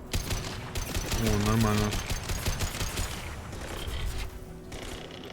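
Rapid gunfire from a weapon in Mass Effect Legendary Edition, played on maximum difficulty, rattles continuously through the clip alongside game effects, with someone speaking briefly over it.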